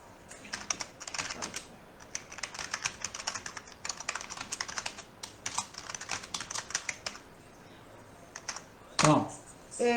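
Fast typing on a computer keyboard, a steady run of close clicks for about nine seconds, ending with a louder knock.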